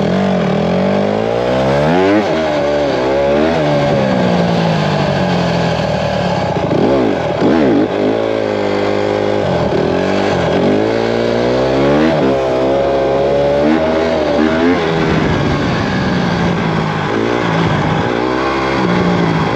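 Honda CRF150R dirt bike engine revving hard under throttle, loud and close, with rising and falling pitch sweeps as the rider blips and holds the gas in repeated surges over a steady buzzing idle.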